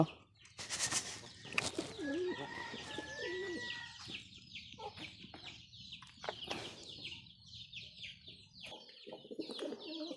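Fancy pigeons coo softly nearby amid scattered clucks, flutters and light pecking at grain, with rustling movement throughout, in the morning.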